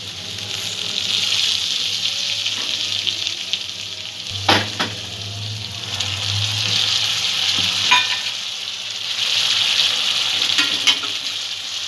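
Spice masala frying in oil in a pan as yogurt is added for a malai egg curry, producing a steady loud sizzle with intermittent stirring scrapes and spoon knocks.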